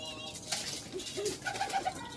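Pigeons cooing close by, a few soft rising and falling coos in quick succession over a quiet background.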